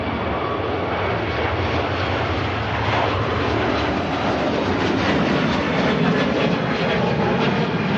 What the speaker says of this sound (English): There goes the Turkish Neo heading back to Istanbul.